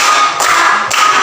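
Hand claps from students doing a patterned clapping ice breaker in a classroom, with two distinct bursts of clapping standing out over a steady, fairly loud room noise.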